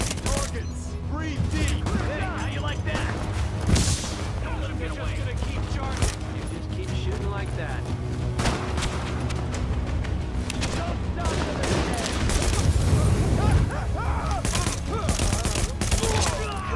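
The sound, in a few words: gunfire in the video game The Division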